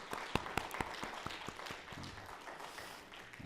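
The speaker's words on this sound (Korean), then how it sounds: "우리 격려하는 의미에서 우리 박수 한번 드리도록 하겠습니다." A church congregation claps in encouragement for its young adult fellowship during a Korean worship service; faint, distant clapping starts as scattered individual claps, then thickens into soft, steady applause.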